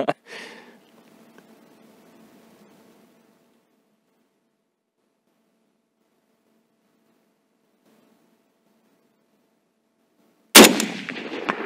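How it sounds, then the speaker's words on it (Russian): A sharp, loud shot from a Saiga-308 carbine rifle rings out at the start and fades, followed by a long quiet stretch, then a second loud blast near the end. "5 выстрелов сделали, 2 попадания."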